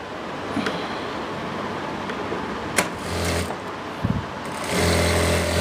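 A sewing machine stitches a seam on palazzo pants, a faint steady whir broken by short louder bursts of running, with no talk over it.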